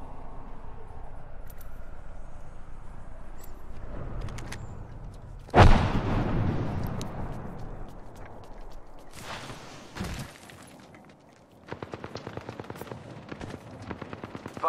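Gunfire from a smart bullet weapon in a squad team deathmatch video game, with a loud sharp burst near the middle, scattered shots and impacts, then a fast rattling volley near the end.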